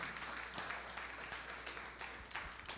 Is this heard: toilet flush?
no